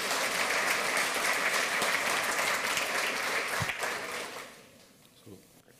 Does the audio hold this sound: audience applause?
yes